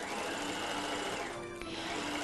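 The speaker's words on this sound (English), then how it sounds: "Using a 1/4 inch seam allowance, sew all the way around the top of the stocking." Sewing machine stitching a 1/4 inch seam around the cuff at the top of a Christmas stocking, a fast steady whirring hum that is quiet and close, with no talking.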